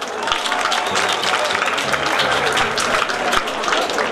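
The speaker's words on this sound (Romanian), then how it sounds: "Aplauze încă o dată!" Crowd applause at a folk costume parade during a Romanian folk song festival, dense and loud clapping from many hands with cheering mixed in, running throughout.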